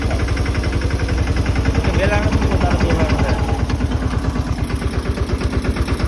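A farm tractor's diesel engine chugs steadily at close range, a loud, even pulsing throb that continues throughout without pause.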